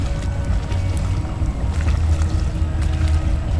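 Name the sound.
dinghy coming up to the dock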